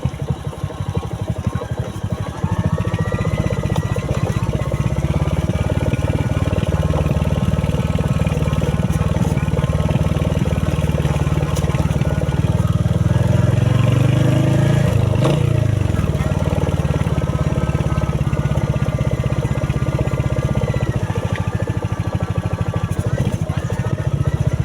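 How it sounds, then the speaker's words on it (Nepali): A motorcycle descending a rough road near Pakyong in East Sikkim on engine braking, a steady low engine drone throughout with some clatter, close to the rider. "एकदम इन्जिन ब्रेकिङमै हिँडिन्छ"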